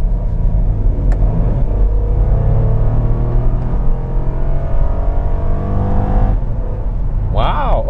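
A second-generation Lexus RX 350 SUV with a V6 engine pulls away and accelerates, its engine rumble and rising drone steady under a person talking inside the cabin.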